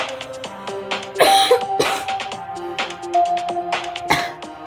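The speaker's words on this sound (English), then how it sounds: "we constantly cough our heads off until we can't breathe any longer" A sick person coughs and clears their throat in several harsh, close bursts, with a steady tonal game soundtrack playing underneath.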